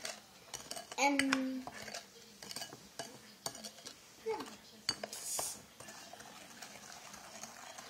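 Lao mango dipping sauce being mixed in a bowl, with a utensil clinking and scraping against the dish in scattered bursts, fairly faint, alongside occasional quiet background sounds.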